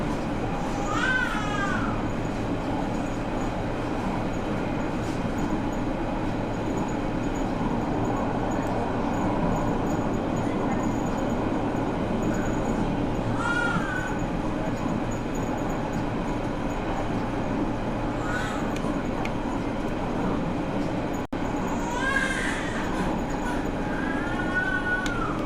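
Steady rumble and rattle inside a moving train in Germany, with occasional high wheel squeals rising above the continuous noise throughout.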